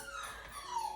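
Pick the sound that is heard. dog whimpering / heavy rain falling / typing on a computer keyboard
dog whimpering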